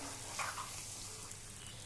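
Fried potatoes and soya chunks stirred in a pan, a soft, quiet sizzle with a few light scraping clinks near the start.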